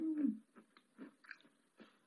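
Chips made of Ural blue clay are crunched and chewed close to the mic: several soft, separate bites and munches, quiet and intimate, with no talk.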